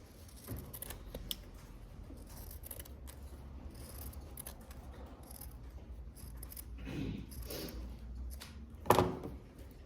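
Scissors trim fabric rectangles for a sewing project at close range, giving quiet, scattered snips and rustles with a sharper cut near the end.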